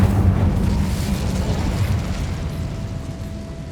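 The Incendio fire spell erupts in Hogwarts Legacy with a loud, close burst of fire whose roaring rumble is strongest at the start and then slowly fades.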